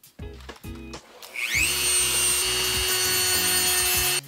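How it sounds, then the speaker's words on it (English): A Dremel rotary tool grinds a small plastic nub off a headphone ear cup, spinning up to a steady, loud high-pitched whine that holds for several seconds after a few short taps and bursts. "as I Dremel this little nub off"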